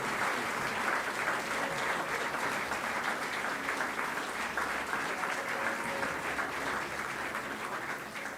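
A large crowd at an awards ceremony applauds steadily, a dense wash of clapping that holds for several seconds and eases off slightly at the end, with faint voices mixed underneath.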